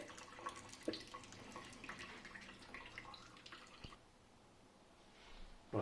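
Hot liquid draining from a bag of steeped grain into wort during extract ale brewing, a soft trickle and scattered drips that fade out toward the end.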